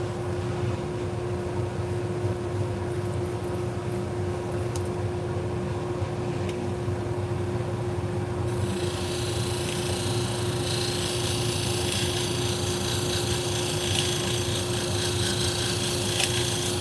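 Salon shears are ground to a convex edge on a powered sharpening machine, giving a steady, loud motor hum and a continuous grinding hiss that brightens partway through, with no talk.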